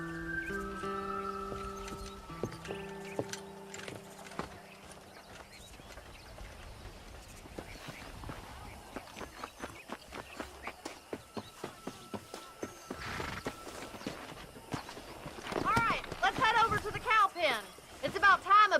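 Horse hooves clip-clop in a steady trotting rhythm while herding cattle out to pasture in Red Dead Redemption, mixed with game music and a voice urging the horse on.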